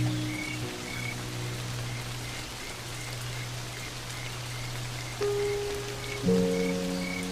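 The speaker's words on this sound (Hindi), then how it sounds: "ये बेमौसमी बारिश बंद होने का नाम ही नहीं ले रही" Unseasonal rain falls across the Serengeti savanna, a continuous patter of drops joined by rhythmic croaking frogs and low steady tones, fairly close and free of voices.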